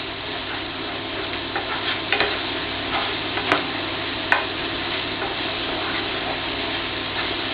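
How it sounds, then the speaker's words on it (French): Onions sautéing in a pan for filet mignon en croûte, a steady soft sizzle running throughout with a few faint clicks, no talking. "On va faire revenir les oignons."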